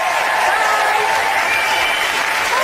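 A live studio audience gives a round of applause at a televised ghost-hunting broadcast from the Churchill War Rooms, a dense, steady wash of clapping that stays loud and even throughout.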